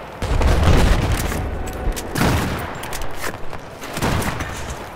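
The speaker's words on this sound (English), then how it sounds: "Have eyes on enemy machine guns." Enemy machine guns in Battlefield 4 rattle out in bursts of rapid gunfire, several volleys separated by short pauses, fairly loud and close with a booming low end.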